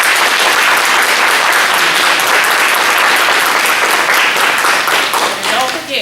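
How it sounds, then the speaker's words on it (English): A live audience at a women's TV season premiere breaks into a sustained, loud round of applause filling a large facility, dense clapping holding steady throughout before easing slightly at the end. "let's give a real nice round of applause to First Choice and Select Health for having us in"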